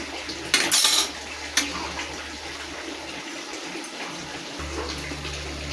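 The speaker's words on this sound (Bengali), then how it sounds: "তো আমি একটু জল দিয়ে দিলাম ঝোল করার জন্যে।" Water splashes into a pot of dal in a home kitchen, a short gush with a metallic clink at the start, then a quieter steady trickle and simmer.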